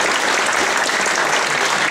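At a Carrick Rangers gala night, a crowd claps loudly for a television personality, a thick, continuous burst of applause that stays steady from start to finish.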